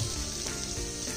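Marinated chicken pieces fry in a pan with a steady, close crackling sizzle, fairly quiet and continuous throughout.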